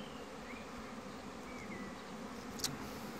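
Honey bees buzz around the landing board of a hive, a steady, quiet, continuous hum of many insects with one brief louder click partway through and no talking.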